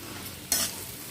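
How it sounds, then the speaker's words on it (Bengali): Ginger, garlic and green chilli paste fries in a pan for chicken kosha, a quiet, steady sizzle with one brief, louder burst of frying as the paste is stirred. "এবার এগুলো একটু ভালো করে কষিয়ে নিচ্ছি"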